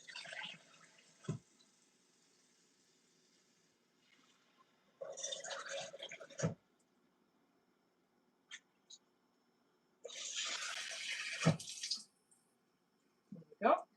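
Water poured into a cooking pot for red lentil curry in three separate bursts of splashing, running pours with quiet pauses between, and faint talk and small clinks in the gaps.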